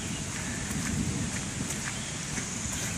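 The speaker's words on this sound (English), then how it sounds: "Rain harder." Heavy rain pounds steadily on an RV, a dense, loud, continuous patter with no clear thunder.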